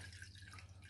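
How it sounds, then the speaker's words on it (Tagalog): Water is poured into a container while homemade taho is being made, a faint trickle and drip heard briefly and alone over a low hum. "Maglagay tayo ng konting tubig dyan."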